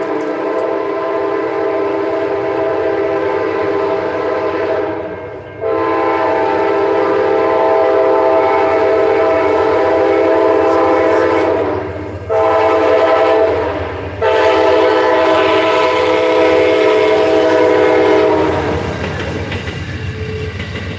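A train passing through Garner, North Carolina sounds its horn in long, loud blasts with brief breaks. Steady rumbling runs beneath the horn and fades toward the end.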